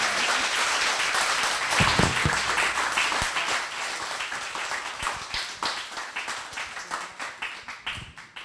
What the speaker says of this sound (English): Please give a round of applause for Oculo.